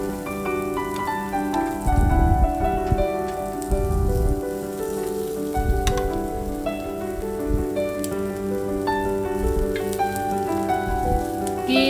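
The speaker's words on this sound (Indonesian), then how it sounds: "Untuk bawang bombaynya kita panggang-panggang sampai agak layu aja ya." Burger patty and onion slices sizzle together on a hot griddle, a steady crackling hiss with bursts of louder spattering through the clip and no talking.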